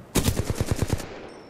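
Short burst of rapid automatic machine gun fire from the video game Titanfall 2, about eight quick evenly spaced shots, close and loud, then cutting off abruptly.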